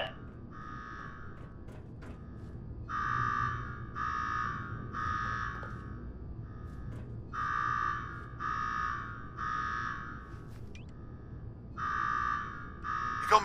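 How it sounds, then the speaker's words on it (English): Video game alarm in Fallout 4, a faint repeating electronic buzzer that sounds in short pulsed bursts with brief gaps between groups, over a low background hum and no talk. "Now go shut off that damn alarm"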